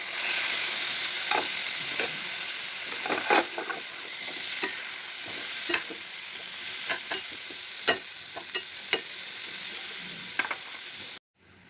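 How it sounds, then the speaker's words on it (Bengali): Tomatoes sizzle steadily in hot oil while a utensil stirs, scraping and tapping the pan in irregular strokes, ending in abrupt silence. "এটাকে আমি ভালো করে কষবো, সুন্দর করে কষতে হবে, ভালো করে নেড়ে চেড়ে দিতে হবে মাঝে মাঝে"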